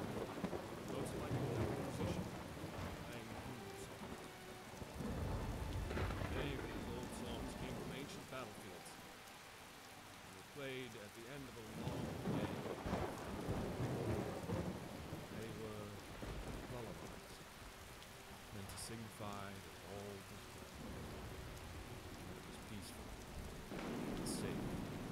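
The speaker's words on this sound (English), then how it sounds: "Sorry about the thunder and lightning," Rain falls steadily with rolling thunder in the video game Skyrim, the storm loud and continuous across the clip with several deep rumbling swells, while a voice talks faintly at times underneath.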